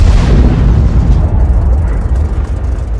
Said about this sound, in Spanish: El potente cañón de 88 milímetros del Tiger II ruge, enviando un proyectil hacia el objetivo